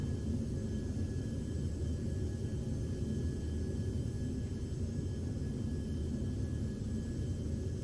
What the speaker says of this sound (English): The, Citation Mustang, another little very light jet.